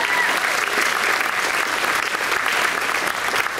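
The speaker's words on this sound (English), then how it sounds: "let's give a round of applause" A banquet audience at a spring alumni reunion breaks into steady, dense applause that stays loud and close from start to finish.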